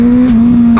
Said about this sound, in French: Là j'accélère à fond en première.